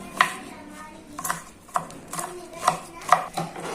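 Tender wild savardoda pods chopped into small pieces, about seven sharp separate knife strikes at uneven intervals, close and fairly quiet with nothing else around them.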